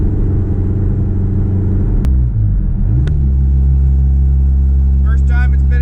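A 25-year-old project truck driven for the first time in six years, at night and in fifth gear around 60, with a loud, steady low engine drone and road rumble, a brief gear change, and a voice speaking over it.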